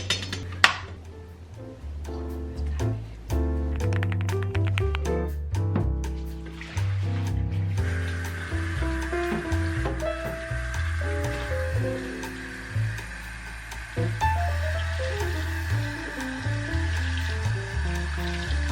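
Dyed clothes are rinsed under a running tap, water splashing and streaming steadily with squishing and sloshing of wet fabric being worked by hand, close and continuous, no voices.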